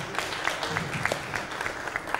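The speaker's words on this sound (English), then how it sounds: "A round of applause, a round of applause." An audience at a Uganda–Tanzania business and investment forum applauds in scattered, distinct claps of moderate loudness, with some faint voices underneath.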